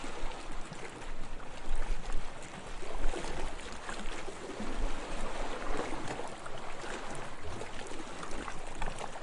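A calm river in green countryside flows with a continuous rushing, burbling wash that holds steady at moderate loudness the whole time, with no voices.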